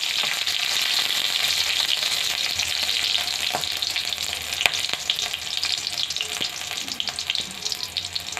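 Green chillies and cumin seeds fry loudly and steadily in hot oil, a dense continuous sizzle with a few sharp pops and faint stirring, no voices.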